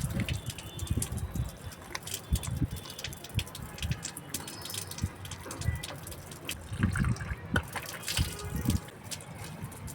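Tap water running while someone washes up at a home sink, a steady splashing gush with clattering handling noises, close by throughout.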